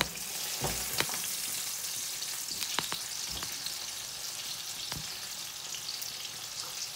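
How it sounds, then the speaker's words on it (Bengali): Onions frying in oil in a pan on a home stove, a steady soft sizzle with a few sharp clicks and pops spread through, no voices. "তাহলে এখন আমি আমার পেঁয়াজগুলো আমি বাজিব"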